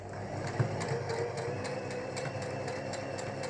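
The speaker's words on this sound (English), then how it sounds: "I'm going to turn the machine on and start to sew" A sewing machine stitching fabric for a book cover runs with a steady, rapid mechanical chatter and a low motor hum, close and even throughout.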